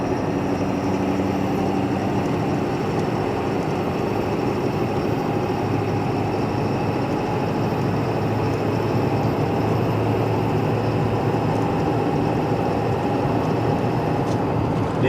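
A 2016 Ford F-550 truck engine under light acceleration gives a loud, steady, broad rumbling drone with road and wind noise, continuous and close for the whole stretch.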